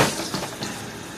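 Water pours steadily into a plant pot to flush out the soil, a continuous close splashing gush with a faint bubbling texture throughout.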